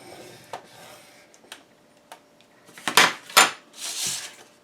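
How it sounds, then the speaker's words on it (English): Cardstock being scored on a scoring board at a half-inch mark, heard as a few sharp scrapes and taps, the loudest near the end, close and alone with no talk. "I'm going to score this one at a 1/2 inch."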